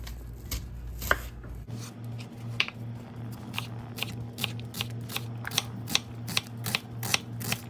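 A sharp knife chops onion on a cutting board while making chicken enchiladas: a steady series of crisp, close, evenly spaced chopping strokes over a low background hum, with no talking.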